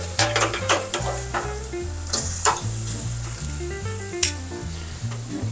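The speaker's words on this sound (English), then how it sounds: "All right, the pork steak's on." Pork steak searing on a Monument grill, a loud, steady close-up sizzle with crackling pops and a few sharp metallic taps, no one talking.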